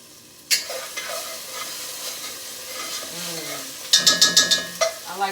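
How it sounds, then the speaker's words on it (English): Onions and minced garlic sizzle in a pan on a stove set to low while a utensil stirs and scrapes, with a burst of sharp metallic clinks near the end. "the way them onions look while they sweating. I got the stove on low."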